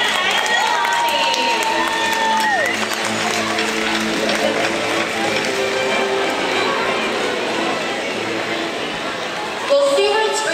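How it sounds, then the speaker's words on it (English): Audience applause and cheering from a crowded stadium at a SeaWorld Orlando killer whale show, a steady loud wash of clapping with music tones running underneath and a brief burst near the end. "How about a big round of applause for Katina and Nalani?"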